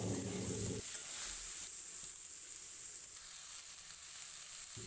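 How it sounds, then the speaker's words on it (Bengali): Chopped pointed gourd frying with salt and turmeric in a kadai, a steady hiss of sizzling oil that runs on unbroken, alone and fairly quiet. "ধুয়ে কেটে রাখা পটলগুলো দিয়ে একটু হালকা করে ভেজে নেব"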